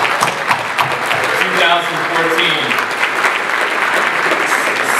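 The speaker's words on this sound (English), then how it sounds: "everyone give him a round of applause" A large conference audience gives sustained, steady applause for a high school cyber team coach at a cyber security hall of fame event, with a voice briefly heard over the clapping.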